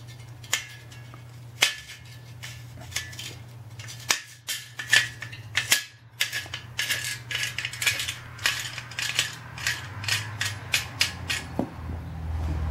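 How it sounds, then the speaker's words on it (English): A Sven 15-inch folding saw is taken apart, its wing nut loosened, producing irregular sharp metallic clicks and ticks that quicken into a rapid rattling series, close and fairly quiet. "So to take it apart, you just basically loosen up your wing nut."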